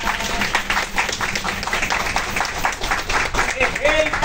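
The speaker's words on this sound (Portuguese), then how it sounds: "Quero uma salva de palmas se eu merecer" Passengers on a train clap for a street embolada singer, uneven bursts of hand claps from a small crowd under chatter and voices, with a faint whistle-like tone near the end.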